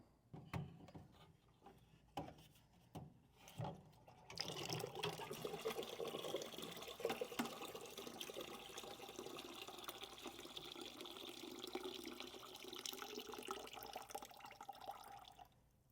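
A few clunks and drips, then water gushes out of an Atlas Outdoors TetonX or AppalachianX tank and keeps rushing steadily, splashing and gurgling up close for several seconds.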